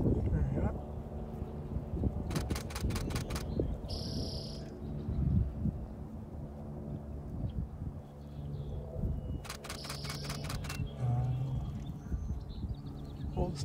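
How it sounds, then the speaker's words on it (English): A spotted towhee calls outdoors by a bay: two short bursts of rapid, trill-like notes a few seconds apart and a brief buzzy note between them, fairly distant, over steady wind noise and a low rumble. "I actually thought it was a red-winged blackbird, but it's a spotted towhee."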